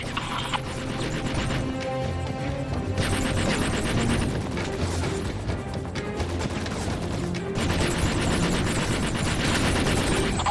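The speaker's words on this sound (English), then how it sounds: "Gunfire on the deck!" Continuous rapid gunfire and crashing blasts fill the scene, a dense, loud barrage with no pauses and no talking.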